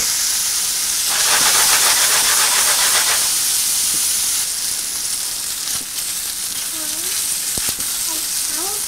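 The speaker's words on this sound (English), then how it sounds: "Let's brown these gnocchi up." Gnocchi brown in hot butter in a pan, giving a loud, steady sizzle and hiss with a surge of crackling spatter early on, then a continuing fry with occasional pops and a few faint voice sounds.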